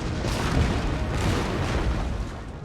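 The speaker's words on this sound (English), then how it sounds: "We're just better off letting the cannons try and shoot them." Cannons fire in Empire: Total War as a constant din of booming artillery, with dense overlapping blasts and rumble filling the battlefield and no clear gaps between shots.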